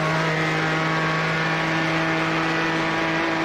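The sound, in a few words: race car downshift with high-RPM exhaust pops, video game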